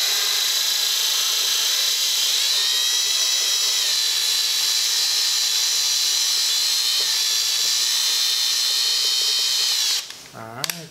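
A power tool drives a tap into an LT2 manifold, cutting a tapered NPT thread with a loud, continuous high-pitched whine that wavers slightly, then stops abruptly and is followed by brief handling noise.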